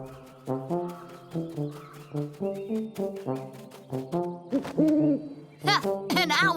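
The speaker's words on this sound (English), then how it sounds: "Ha! An owl!" A cartoon owl hooting in a series of repeated tonal hoots over a steady rhythmic musical backing, close and clear, ending with a few higher wavering calls.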